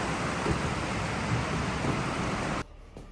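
Heavy rain pours down as a dense, steady hiss with a low rumble of thunder beneath it, then cuts off abruptly to near quiet.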